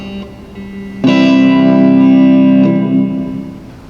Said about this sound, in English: Now here's reverb, remembering it's supposed to emulate what a room would sound like with a lot more space.